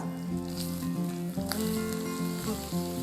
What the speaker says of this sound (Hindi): अब मैं डालूंगी इसके अंदर ये प्याज जो मैंने बारीक काटा था